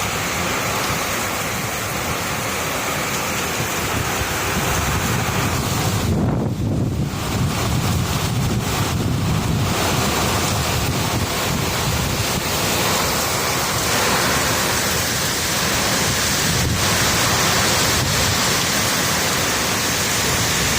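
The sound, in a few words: strong storm wind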